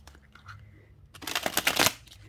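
A tarot card deck being shuffled, a rapid papery riffle of cards rising loud in a dense burst near the end, after a quieter stretch of faint handling.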